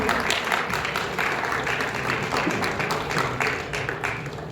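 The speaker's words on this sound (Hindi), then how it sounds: "आपकी जोरदार तालियां पीछे तक" An audience at an award ceremony in Damoh applauds loudly, dense clapping from a sizeable crowd that holds steady throughout.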